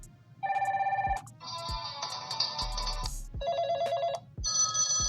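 Ringtones previewing on a BLU G51 Plus phone, one electronic melody after another, each a bright beeping or trilling tune cut off abruptly before the next starts, with no voices.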